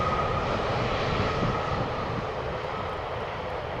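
A Cargolux cargo plane arriving at Amsterdam Schiphol Airport produces a loud, steady jet engine roar with a faint whine, continuous throughout and without voices.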